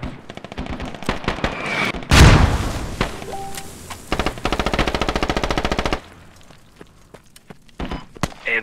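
A grenade goes off in the military shooter Squad, one big close blast bursting out amid a din of rapid machine-gun fire and scattered gunshots, with more sustained automatic fire following before the battle noise thins.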